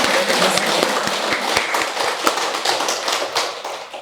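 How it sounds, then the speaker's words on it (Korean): Warm applause from a congregation of faculty and staff at a Korean Buddhist-style dharma service, dense steady clapping filling the room with many individual claps standing out, continuing for the whole stretch without talk. "서로 서로에게 박수 한번 보내주실 따뜻한 박수를 드리겠니다"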